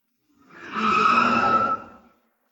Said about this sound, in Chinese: 我现在可以开这辆车出去转转？